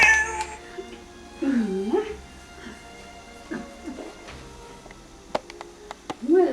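A pet cat in a dementia ward of a nursing home meows several times in drawn-out, wavering calls spaced across the moment, with soft background rustle and occasional clicks.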